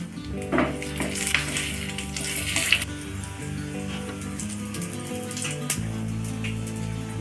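Whole cinnamon, cloves, cardamom and mace sizzle in hot oil for a chicken butter masala, with a steady frying crackle and a few louder stirring bursts close by and no speech.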